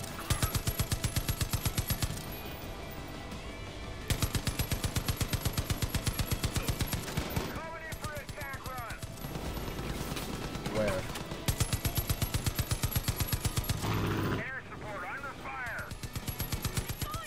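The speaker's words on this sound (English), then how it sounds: "Yeah, but I have a fucking giant mounted machine gun" Giant mounted machine gun firing in Far Cry 5, long rapid bursts of heavy automatic gunfire, loud and close, broken by short pauses filled with game effects and distant chatter.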